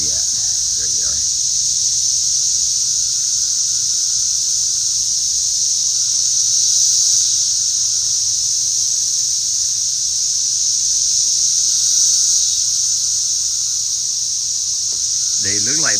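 Cicadas drone in a loud, steady, high-pitched buzz that persists unbroken throughout, with faint low rumble beneath and brief handling noise at the start and end.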